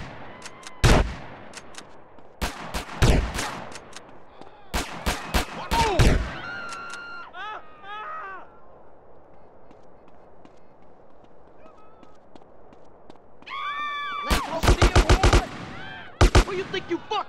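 Gunfire in Grand Theft Auto: San Andreas comes as loud, sharp bursts of shots spread through the passage, alongside honks and game sounds, with a busier cluster of rapid shots near the end.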